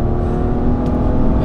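BMW six-cylinder engine, from an E46 330Ci or E92 330i, revving hard at high rpm, a loud, dense, continuous close-up roar with no talk over it.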